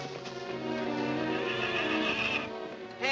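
A horse whinnies in one long, loud, quivering neigh close by, followed by a brief rustle at the end.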